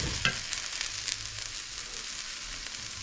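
Pan-seared salmon with mushrooms sizzling over medium-low heat, a steady soft crackle and hiss throughout with a few brief clicks, fairly quiet and without talk.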